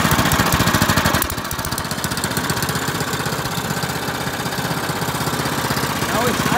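A Honda HS55 snowblower fitted with a Chinese carburetor starts on the pull and settles into a loud, steady, rapid-chugging run, close up, with a voice talking over it.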